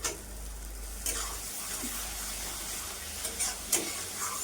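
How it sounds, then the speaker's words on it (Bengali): Pointed gourd (potol) bharta frying in a pan and being stirred, a steady close sizzle with a few brief scraping clinks of the spoon against the pan. "বন্ধুরা এই যে পটলের ভর্তাটা রান্না করছি"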